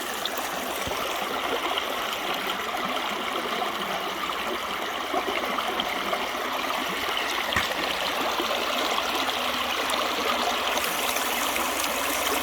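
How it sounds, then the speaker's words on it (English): A peaceful creek flows steadily over rocks during a gold-prospecting outing with a sluice, giving a continuous, even trickling and babbling wash of water close by with no voices. "Peaceful Creek."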